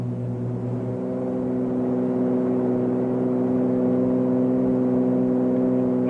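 Aircraft engines at full throttle on takeoff, a loud, steady droning roar with strong sustained harmonic hum that holds without pause throughout.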